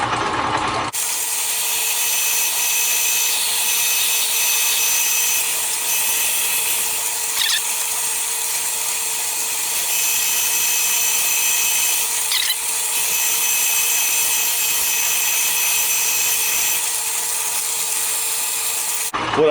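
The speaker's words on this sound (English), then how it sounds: "I found a 5/8 drill bit. We'll go ahead and drill it out to that." A 5/8 inch drill bit boring into a metal feed plate for a Logan 8-inch shaper, a continuous high whining grind with a steady motor hum, loud and close, running unbroken throughout without speech.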